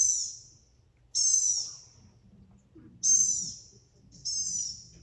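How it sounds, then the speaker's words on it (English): Blue-gray gnatcatcher calls are played from a recording as four thin, high, nasal peeps, evenly spaced and clear against near silence. "you hear this soft, faint peening sound. And that's this little blue-gray gnatcatcher."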